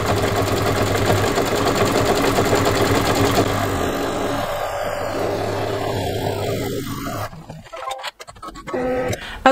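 A single-needle embroidery machine stitches steadily, its rapid mechanical chatter filling most of the stretch at close range before it stops and shifts near the end.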